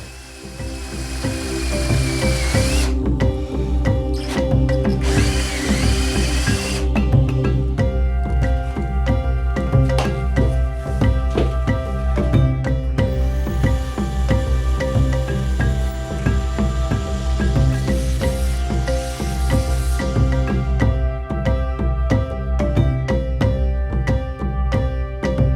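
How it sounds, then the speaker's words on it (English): Power drill boring a 1 1/8 inch bit through a cherry wood blank into a pine board, a steady loud grinding whine with harmonic tones running continuously for the whole stretch after a brief start. "I will continue the perforation through the whole cherry blank and even into the first pine board with the 1 inch and 1/8 bit."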